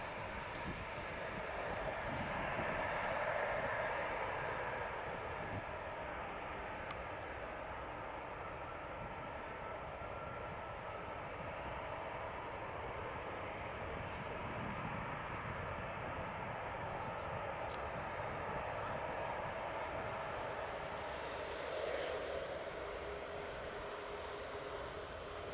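A Gulfstream G650 private jet at Geneva airport makes a steady, broad jet engine roar that holds fairly even throughout at a moderate distance, with faint radio chatter beneath.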